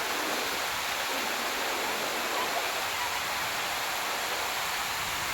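A constant roaring rush of a mountain waterfall, Munjaba (Dhurnali) waterfall at Otur, fills the scene, steady and loud with no voices.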